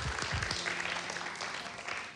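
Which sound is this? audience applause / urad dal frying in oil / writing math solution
audience applause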